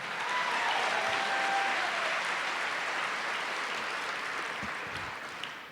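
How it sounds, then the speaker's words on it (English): Applause fills a packed hall at a community empowerment summit plenary session, a dense steady wash of many hands clapping that holds loud throughout and tapers slightly near the end. "Give them all a big round of applause."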